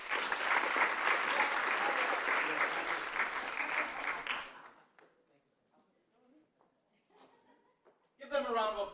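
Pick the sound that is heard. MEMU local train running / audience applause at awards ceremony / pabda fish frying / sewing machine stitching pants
audience applause at awards ceremony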